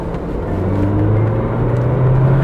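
A 2020 Renault Duster with the 1.3 L turbo petrol engine and six-speed manual gearbox pulling under throttle, a close, steady engine drone whose pitch climbs smoothly as it accelerates.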